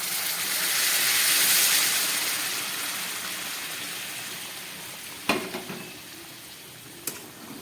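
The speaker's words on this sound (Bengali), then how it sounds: "এবার আমি দিয়ে দিচ্ছি এর মধ্যে উষ্ণ গরম জল।" Warm water poured into a pot of browned mutton curry, a loud rushing hiss and sizzle that swells then fades into a softer simmer, with a couple of sharp utensil clinks near the end.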